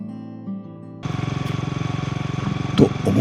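A Honda Monkey 125 motorcycle runs along a road at low speed. The single-cylinder engine thrums rhythmically and close, with wind buffeting and a faint tone at the start.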